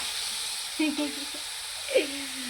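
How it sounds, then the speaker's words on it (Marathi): Finely chopped onion sautéing in a pan for a green tomato bhaji, a low steady sizzle with a couple of soft scrapes from a spoon, close and fairly quiet, no talk. "आता इथं कांदा टाकलेला आहे मम्मीने बारीक चिरलेला आता हा चांगला मऊ होईपर्यंत परतून घ्यायचा"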